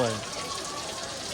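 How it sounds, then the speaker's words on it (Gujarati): Steady rain falling outdoors at a crowded hill temple on a family outing, a continuous close hiss with a brief voice at the very start. "જો વરસાદ હજી ચાલુ છે."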